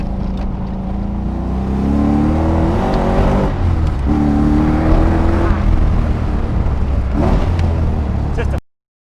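An LS-powered (L33) Nissan 240SX S13 coupe is driven hard, its V8 revving loud and close with rising and falling pitch through repeated pulls before it cuts off abruptly. Excited speech can be heard over the engine.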